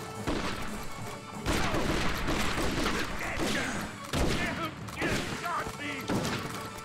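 Gunfire in the Xbox game Red Dead Revolver (2004), dense bursts of shots, crashes and thuds packed closely together at steady loudness, with voices talking over parts of it.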